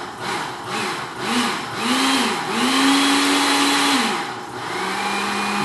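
A blender pulses through chunks of pepper bisque soup, its motor whirring up and down in short bursts that grow longer, then a sustained loud pureeing run with the pitch rising and falling.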